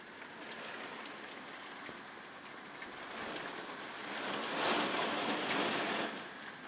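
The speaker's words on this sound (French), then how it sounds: "il y a vraiment de fortes pluies là." Heavy rain during a violent thunderstorm in Carpentras, Vaucluse, a dense, steady hiss of downpour with scattered drop impacts, swelling louder midway, with no voices.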